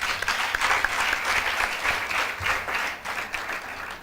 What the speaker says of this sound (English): I'd like all of us to give them a hand clap.